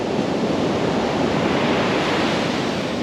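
Ocean surf at sunset, a steady, loud wash of breaking waves with constant rumble and hiss, heard alone with no voices.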